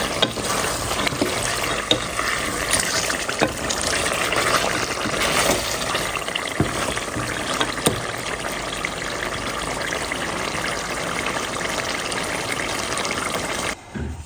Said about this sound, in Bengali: আর এখানে রান্না করে নিচ্ছি গরুর মাংসর তরকারি তো এটার মধ্যে আলু দিছি